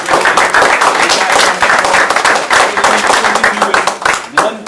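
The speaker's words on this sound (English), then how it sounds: "give yourself a round of applause" An audience at a youth summit breaks into dense, loud applause, many hands clapping together close by for several seconds before it begins to thin out.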